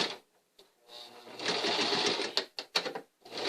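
Sewing machine backstitching a simple apron, a close steady whir of stitching followed by short stop-start bursts as the stitch reverses.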